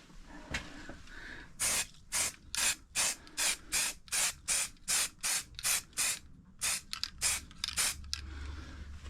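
Cheap plastic side panels from a CB750 F1 motorcycle being spray painted, with about a dozen short, close hissing bursts from the aerosol in a steady rhythm, separated by brief pauses.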